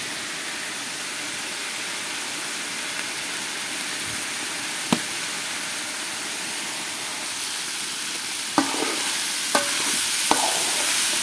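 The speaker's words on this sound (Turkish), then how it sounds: "Biberlerimiz tamamen erene kadar kavuracağız arkadaşlar." Peppers sauté in a pan with a steady, close sizzle while they are stirred until soft. Occasional sharp clicks of a utensil striking the pan cut through, and no one speaks.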